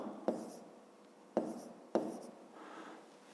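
A pen writes numbers by hand on paper for a fifth-grade maths exercise, three sharp taps followed by soft scratching strokes, quiet and close, with no talking.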